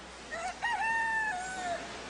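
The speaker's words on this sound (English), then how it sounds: "Rooster." A rooster crows once in a long rising and falling call, clear but slightly distant over a steady outdoor background hiss in a mountain setting.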